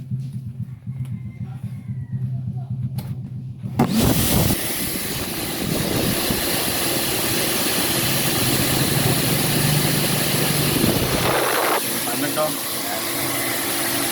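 After a few seconds of talk, a vacuum used to blow out a clogged farm water line roars to life. It makes a loud, steady, engine-like rush close by, with voices underneath.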